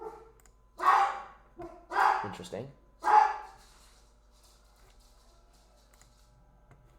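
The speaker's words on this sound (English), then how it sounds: "That's why the dogs are barking." Dogs bark in bursts at fireworks, three main volleys in the first three and a half seconds, then quiet; a voice speaks briefly.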